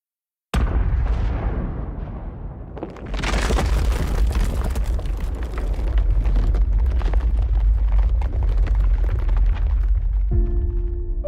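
Massive landslide of soil and rock in Malaysia, a sudden deep booming roar that builds into a long, continuous rumbling crash, loud and sustained with no voices.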